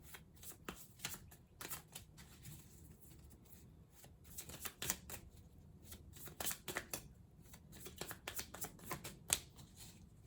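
Tarot cards are shuffled by hand close by, a quiet run of irregular riffling flicks and soft slaps that comes in bursts, with no talking.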